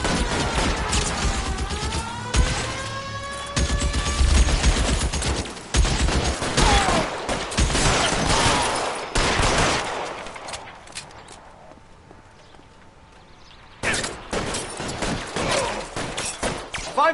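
Gunfire in the L.A. Noire video game, with dense, loud bursts of shots and booms that fade into quiet for a few seconds before another burst of firing returns.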